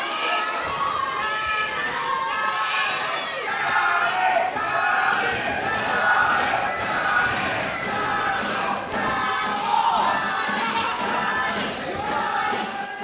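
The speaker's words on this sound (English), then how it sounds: "the cheers for Johnny echo through the arena" A wrestling crowd in a rec center arena cheers and shouts loudly and continuously for a wrestler, with dense overlapping voices, whoops and chants rising and falling in waves.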